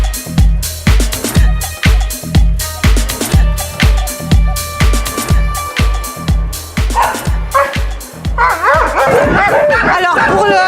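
Husky sled dogs bark in a loud, rapid, regular series of sharp woofs, close by, before the barking turns into a chorus of yips and howl-like whines near the end.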